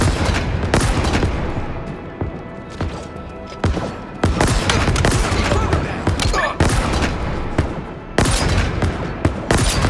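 Heavy gunfire in the Halo Infinite shooter, with dense bursts of automatic fire and booming shots going almost nonstop, loud and close, with a few brief lulls and shouted in-game voice callouts mixed in.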